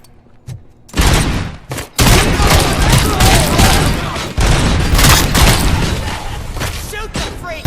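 Heavy gunfire in the video game RoboCop: Rogue City, a dense, loud fusillade of rapid shots and booming impacts that starts abruptly after a near-silent second and continues almost without pause, with voices mixed in.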